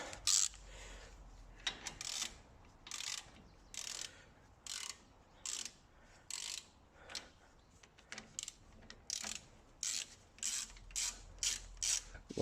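A hand ratchet loosens a bolt on the brakes of a Ford Transit Custom van, giving a long series of quick clicking bursts in an uneven rhythm, close up and fairly quiet, with no voices.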